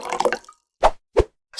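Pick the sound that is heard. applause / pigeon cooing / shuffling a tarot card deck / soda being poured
soda being poured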